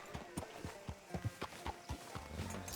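Horse hooves clip-clopping at a walk in the Red Dead Redemption 2 video game, a near, regular run of hollow thuds under faint ambient sound.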